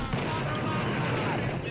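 Gunfire in a video game, a dense continuous burst of loud, booming shots that fills the whole moment with no clear gaps between reports.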